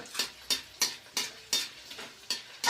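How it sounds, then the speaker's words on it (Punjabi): A ladle stirs dabra, with edible gum roasting in desi ghee in a pan, giving about eight evenly spaced scraping strokes over a faint sizzle and no talk. "ਥੋੜਾ ਥੋੜਾ ਹਲਾਈ ਜਾਣਾ ਇਦਾਂ"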